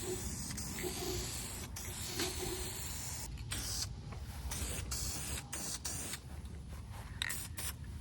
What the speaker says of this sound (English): Now we're painting the other side.